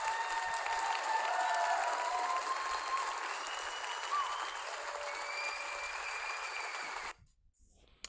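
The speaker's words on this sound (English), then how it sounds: "Please give this group the biggest round of applause." A banquet room audience gives sustained, dense applause to long-serving volunteer leaders at an appreciation night, holding steady for about seven seconds before it stops abruptly into near silence.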